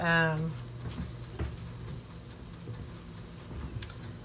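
An egg frying in bubbling butter in a hot skillet, a soft steady sizzle and crackle close by, with a brief voice at the start.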